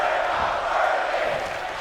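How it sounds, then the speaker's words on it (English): Wrestling crowd in an arena chanting in unison, a dense sustained roar of many voices heard from a distance and holding steady throughout. "The crowd already kind of chanting"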